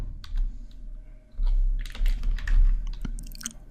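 Keys clatter on a computer keyboard in quick irregular bursts of typing, close and fairly loud, with no speech over it.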